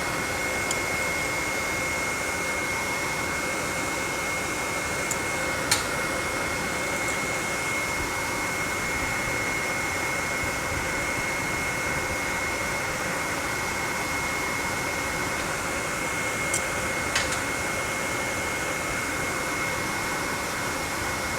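A Vintage Air heater blower in a restomod GTO runs continuously through a custom duct, giving a loud, steady whooshing roar with a faint whine and a couple of small clicks.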